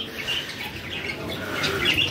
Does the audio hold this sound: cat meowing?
no